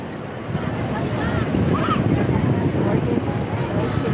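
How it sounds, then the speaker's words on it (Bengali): Ocean waves roll in at Puri beach with a continuous, loud rushing wash that swells slightly as a strong wave arrives, mixed with gusty wind buffeting the microphone. "এই দেখো দেখো কেমন মানে কত জোর ঢেউটা আসছে"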